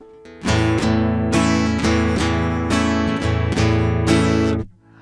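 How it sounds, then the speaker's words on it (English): Close acoustic guitar strummed in a three-stroke pattern, two strokes on the lower strings and one on the higher strings, repeating evenly for several bars and then stopping, with no talking. "It would be nice if you could play the first 2 strokes on the lower strings."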